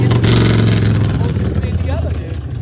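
A show car drives past a house, its loud engine roaring nearby and then fading, with a person talking over the passing sound.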